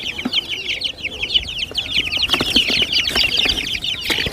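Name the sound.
two-month-old chicks clucking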